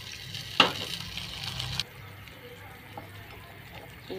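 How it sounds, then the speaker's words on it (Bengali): Water poured into a pan of onions lightly fried in oil, giving a sharp burst of sizzle that settles into steady, softer frying hiss, with quiet kitchen sounds afterward. "এবার একটু পানি দেব।"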